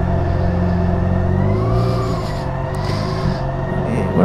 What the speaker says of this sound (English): fans just humming along there